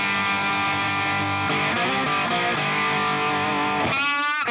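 An electric guitar plays through an Atomic Amplifire on its Recto amp model with gain at full, giving a loud, saturated, sustained distorted tone, and a final bending, swelling note near the end; no talking.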